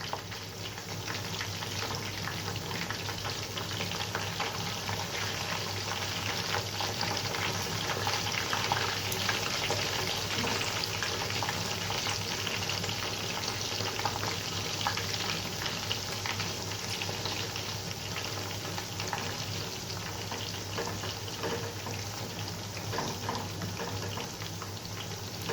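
Lemon chicken pakoras frying in oil over a low flame give off a steady, even crackle and hiss that runs the whole time, at a moderate level with no talking.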